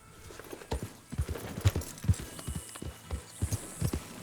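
Horse hooves clip-clop in Red Dead Redemption 2, a steady walking rhythm of hollow thuds close by against a quiet outdoor background.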